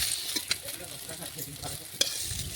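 Vegetables for a shukto frying in oil in a wok, turned over as they brown: a steady close sizzle broken by scattered sharp crackles and stirring clicks, with no voices.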